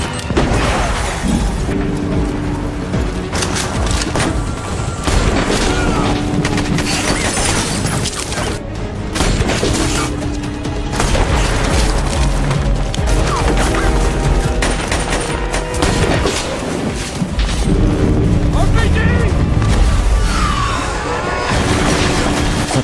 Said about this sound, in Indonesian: bom Q4 yang sudah dipasang menggunakan remote itu pun diledakkan